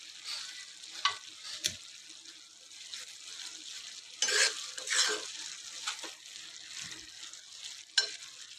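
Cabbage curry frying in oil with green chillies, curry leaves, coriander and tomato added, a soft continuous sizzle broken by occasional spoon scrapes and clinks against the pan, fairly close and quiet.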